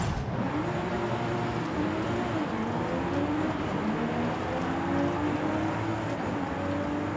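A Toyota Supra's engine in a racing video game, droning steadily and loud throughout, its pitch climbing and shifting through gears in repeated rising sweeps, with no talk over it.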